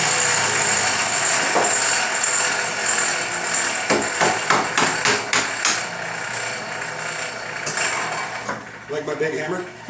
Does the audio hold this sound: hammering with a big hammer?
yes